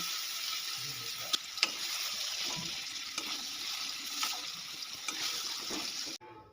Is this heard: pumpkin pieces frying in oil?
yes